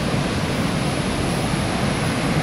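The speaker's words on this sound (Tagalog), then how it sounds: "Medyo malakas ang agos kung naririnig nyo." A strong river current rushes past a flood-control structure after a storm, a steady and dense roar of water that fills the whole clip without any break or voices.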